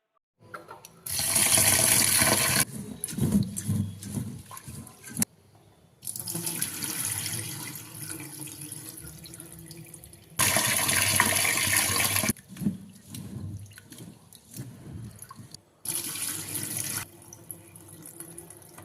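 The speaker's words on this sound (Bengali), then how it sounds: "চলুন চাল ডালটা ধুয়ে" Kitchen tap water splashing into a pot in several separate bursts as rice and lentils are washed for Bengali khichuri, loud gushing runs alternating with quieter swishing and handling sounds between them.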